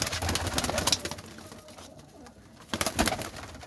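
Pigeons kept by a fancier coo in repeated bursts close by, with soft rustling between calls, loud at the start and again near the end.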